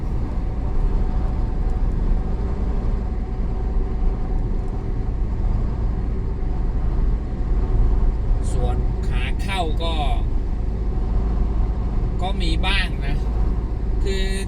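Continuous road traffic rumbles at the Raka intersection in Prakhon Chai, a low engine drone that persists throughout, while someone speaks in Thai over it in the latter part.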